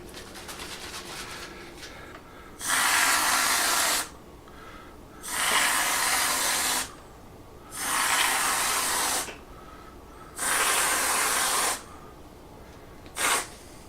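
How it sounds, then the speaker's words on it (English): Spray whipped cream hisses from an aerosol can onto a light, diabetic-friendly St. Patrick's Day parfait in four long bursts of about a second and a half each, then one short final squirt, loud and close. "or even some spray whipped cream, which I just happen to have here"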